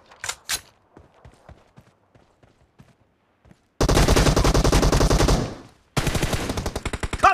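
An M416 rifle in PUBG Mobile team deathmatch fires in two loud, rapid automatic bursts after a stretch of faint clicks and a few single shots, close and dense.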